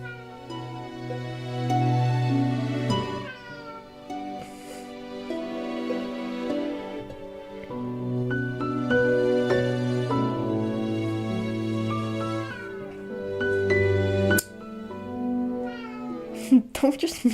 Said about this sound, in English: Don't just meow at me